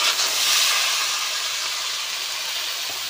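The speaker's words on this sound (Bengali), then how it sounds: "তেল গরম হওয়ার পর মাখিয়ে রাখা চিংড়িটি ঢেলে দিলাম।" Marinated prawns poured into hot oil while cooking a Bengali prawn poppy-seed dish, giving a loud, bright, continuous sizzle that stays strong and slowly eases over a few seconds.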